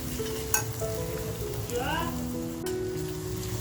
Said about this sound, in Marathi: तर बघा आपला मसाला असा खमंग परतवून झालेला आहे